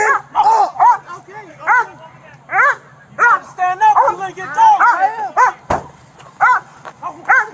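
A police dog at a catalytic converter theft arrest barks, yips and whines in repeated sharp bursts close by, amid shouting voices.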